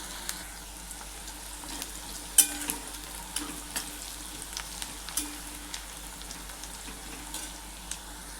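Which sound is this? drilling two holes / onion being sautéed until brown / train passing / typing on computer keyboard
onion being sautéed until brown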